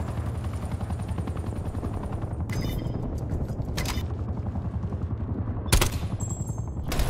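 Gunfire in the shooter game Call of Duty Cold War: rapid automatic fire rattles steadily throughout over a low rumbling din, with a few sharper cracks and one louder burst near the end.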